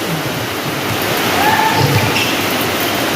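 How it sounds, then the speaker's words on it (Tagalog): Heavy rain pours steadily during an outdoor barangay basketball game, making a dense, continuous hiss with faint voices underneath. "Guys, kusog ang ulan."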